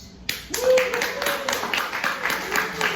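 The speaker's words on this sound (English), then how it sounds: "Clap your hands if you like to spell Hanukkah with a CH." Scattered hand clapping from a comedy show audience at a Hanukkah event, starting abruptly and continuing in uneven bursts beneath a voice speaking.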